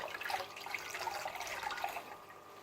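Salt water trickles and splashes quietly as a squeezed aquarium filter mat drains, a faint, uneven patter of droplets close by with no talk.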